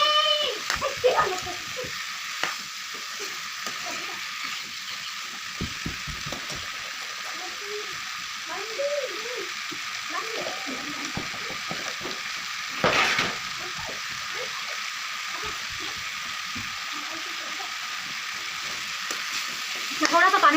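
Potatoes frying in a pan with a vegetable dish being cooked, a steady close sizzle broken by scraping stirs and clinks, with someone speaking faintly at moments.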